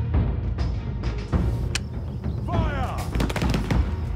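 Gunfire in the stealth game Shadow Tactics: Blades of the Shogun, a rapid series of sharp close shots and bangs with clattering mechanical sounds and a brief voice among them.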